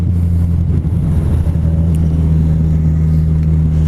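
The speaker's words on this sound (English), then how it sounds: "Can't get over how nice that exhaust, a Kropovic." Kawasaki Z1000 motorcycle fitted with an Akrapovic exhaust, ridden on the road; a steady, loud engine drone with a deep low hum runs unbroken throughout, no talking.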